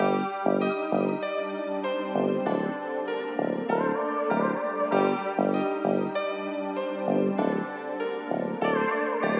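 A looping Detroit-style beat with a deep, punchy Detroit bassline pulsing in short repeated notes under bright synth chords, steady and loud throughout.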